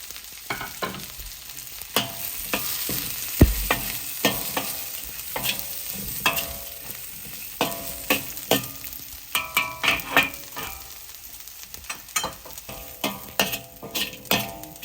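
Ginger, scallion, chili and garlic stir-fried in a hot wok for kung pao shrimp: steady loud sizzling with repeated scraping and clanking spatula strokes, a sharp knock partway through, no talk.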